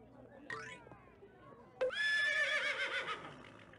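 A short squeal, then a loud, drawn-out horse whinny from a video game that rises and trembles before fading, heard close and clear with no talking.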